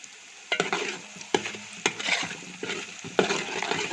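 Green chillies and onion fry in hot oil in a pan for a Kerala toddy-shop catfish head curry, with steady sizzling broken by several sharp scraping stirs of a spoon against the pan, close and fairly loud.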